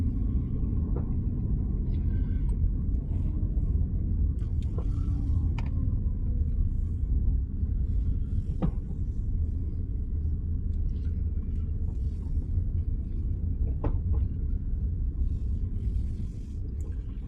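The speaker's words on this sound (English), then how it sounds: "So just got a light hum on the engine" A car engine hums steadily and low as the car pulls away from a stop during a driving lesson. The rumble is close and continuous throughout, with no talk over it.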